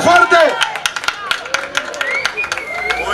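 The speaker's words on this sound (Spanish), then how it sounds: "Un aplauso fuerte." A crowd at an alternative street festival in Gràcia claps in quick, sharp, uneven bursts, with some voices rising briefly at the start.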